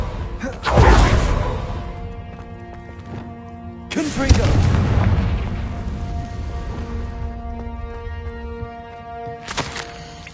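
Confringo spell blasts in Hogwarts Legacy, two loud booming explosions with whooshing tails a few seconds apart, followed by a shorter burst near the end, with a voice calling out in the game.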